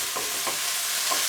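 Onions frying in a pan, a steady soft hiss of sizzling with a few faint stirring scrapes, close and alone without any voices.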